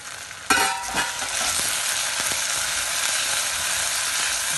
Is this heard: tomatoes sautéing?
yes